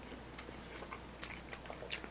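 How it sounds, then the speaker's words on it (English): Fresh, undressed cabbage coleslaw is crunched close to the mouth, with faint, scattered crisp bites and chewing over quiet background noise. "Coleslaw is fresh. Nice crunch from the cabbage."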